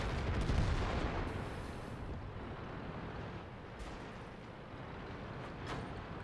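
Tank gunfire in World of Tanks from a Tiger I with its 8.8 cm L/56 gun: a heavy boom near the start, then a long rolling rumble that slowly fades, with a few faint distant shots later.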